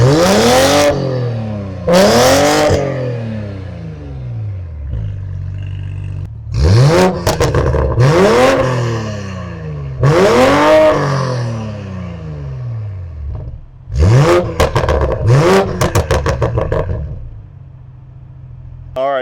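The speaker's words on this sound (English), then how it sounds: "That's what it sounds like when you're revving it up." A Toyota MKV Supra's engine revs hard in repeated loud bursts, each rising to a roar and falling back to idle between blips, close by and with no talking.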